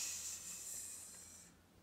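A voice imitating a grumpy cat's breathy hiss, steady and sustained for about a second and a half before cutting off, close and fairly quiet.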